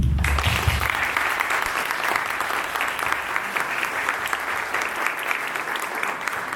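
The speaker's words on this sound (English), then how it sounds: "I think maybe we can all give them some applause." A lecture audience applauds the organizers, a full, sustained roar of clapping that starts abruptly and continues evenly, slightly easing near the end, with no speech over it.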